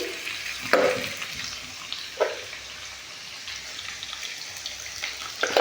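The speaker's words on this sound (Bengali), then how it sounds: "সেই তেলটাতে আর একটু তেল অ্যাড করে আমি আলুগুলোকে দিয়ে দিলাম।" Cut potatoes fry in oil in a pan, giving a constant crackling hiss close by, with a few louder knocks and scrapes as the pieces are moved; no one speaks.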